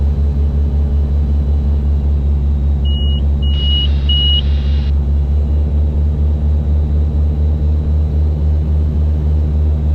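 Piper Aztec twin-engine airplane with new fuel bladders, heard from inside as a loud, steady droning thrum of both engines holding constant throughout, with a few brief beeping tones partway through.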